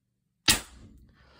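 A single sharp shot from an HDR68 airgun firing a 10 g ZRAM shaped round at 1100 psi, close and loud, with a brief decaying tail after the crack.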